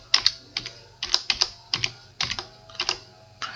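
Keys clack on a computer keyboard as code is typed, in quick irregular clusters of sharp taps with short pauses between, close and distinct.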